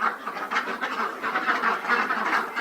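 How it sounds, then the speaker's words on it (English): Ducks quack noisily on a family farm near chicken nesting boxes, a steady run of overlapping nasal calls throughout, fairly close and clear with no talk. "Them ducks are always so noisy."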